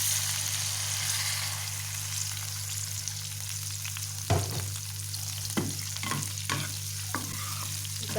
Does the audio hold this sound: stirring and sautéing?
yes